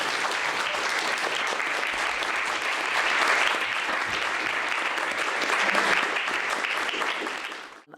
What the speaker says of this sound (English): I think everybody wants to applaud these professional level attorneys.